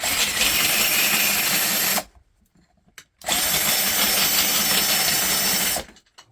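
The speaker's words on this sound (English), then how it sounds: "I chuck this up into my drill." An electric drill runs at high speed in two sustained bursts, loud and close, separated by a short silence with a faint click.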